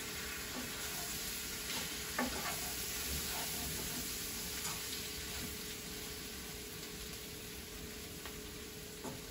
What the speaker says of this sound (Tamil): 2 கரண்டி தூள் போட்டு இதையும் இப்படி பண்ணுங்க, இப்படி ஃப்ரை பண்ணுங்க